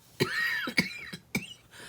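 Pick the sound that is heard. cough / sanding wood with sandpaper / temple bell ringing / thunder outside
cough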